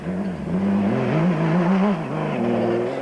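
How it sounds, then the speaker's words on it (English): Off-road racing car powered by a motorcycle engine, running at the 1995 Settler 400, roars loudly and continuously at close range, its pitch rising and falling through gear changes and revs with no speech. "the beautifully turned out Mighty Mag, which is powered by a motorcycle engine"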